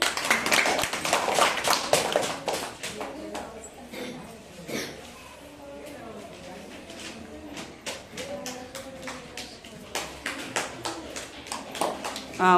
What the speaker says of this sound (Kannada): ಚಪ್ಪಾಳೆ ತಟ್ರಿ.